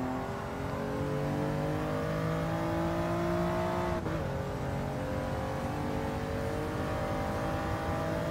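A Toyota GR Yaris engine revs hard in the racing game Gran Turismo Sport, a continuous loud, rising engine tone that climbs, dips briefly at a gear change and climbs again, heard without speech.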